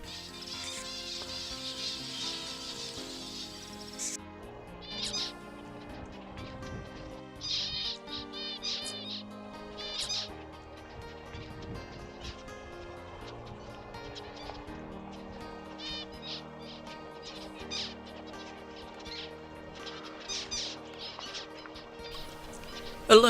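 Male zebra finch singing alone, a series of short chirps, buzzy notes and rapid tweets in scattered bursts, fairly faint and close against a quiet background.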